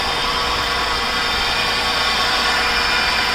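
A 2012 Acura MDX engine runs with a newly replaced alternator, giving a steady, close, unbroken mechanical hum and hiss that holds the same level throughout.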